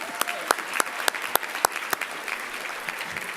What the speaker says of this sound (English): A round of applause for Carol one more time